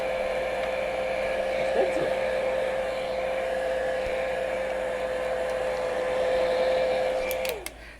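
A hair dryer drying paint on a painted bear figure, running as a loud, steady close-up whine for nearly the whole stretch before switching off near the end.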